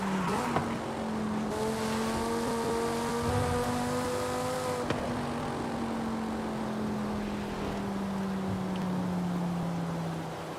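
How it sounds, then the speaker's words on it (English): Car engine exhaust in Forza Horizon 5 echoing off surrounding city buildings, a steady droning engine tone with slowly shifting pitch and harmonics, loud and continuous with no talk. "I like when the exhaust sound echoes from all these buildings around us"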